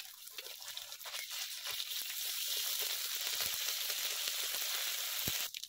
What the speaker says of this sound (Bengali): এবার রসুন আর আদা বাটাটা দিয়ে দিচ্ছি